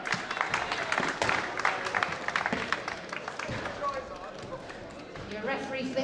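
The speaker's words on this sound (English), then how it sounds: "let's give him a cheer" Audience at a squash grand final claps and cheers for player Steve Flanagan, a dense, steady burst of applause with scattered shouts, filling the space at moderate loudness.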